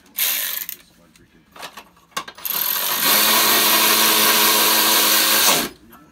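Close socket ratchet driving the fastener on a washer fluid reservoir bracket, a long continuous burst of rapid clicking after a few short, separate strokes.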